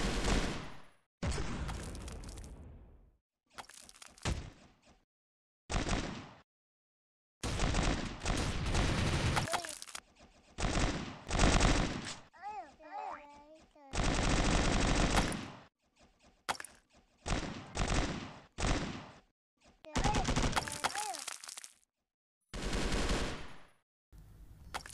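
Bursts of automatic gunfire from the online FPS game Milk Choco, rapid fusillades separated by short silent gaps, loud and close with occasional game effects.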